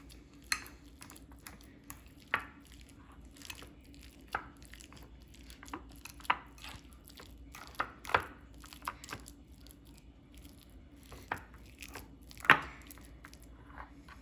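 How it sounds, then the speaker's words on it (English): A fork mashing avocado in a kitchen, soft irregular squishy taps and scrapes against a bowl, close and fairly quiet, with short pauses between strokes. "So now I'm going to take my fork and mash the avocado."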